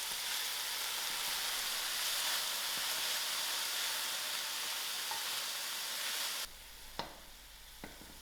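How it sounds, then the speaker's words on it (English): Salt being stirred into a pot of cooking watercress and dubla beans: a steady, close hiss and sizzle runs throughout, then drops to near quiet with a couple of sharp clinks of a utensil at the end. "I'll add in my salt and give this a good mix."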